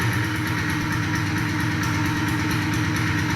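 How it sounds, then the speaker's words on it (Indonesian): A small tractor engine idles at low throttle with a steady, continuous, even chug throughout, loud and close, with no talking. "Kecilkan gas pada posisi idle atau stasioner hingga putaran mesin akan ulang selama 2-3 menit."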